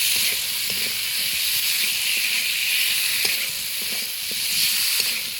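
Cut potatoes and drumsticks sizzle in hot spiced oil in a pan for a Bengali katla fish curry, a loud, steady close-up hiss with faint clicks of stirring.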